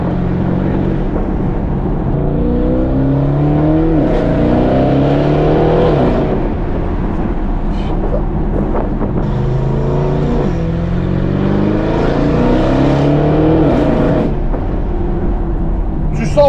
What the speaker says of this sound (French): J'ai jamais conduit une Bentley qui avait un comportement aussi agressif et une sonorité aussi agressive que ça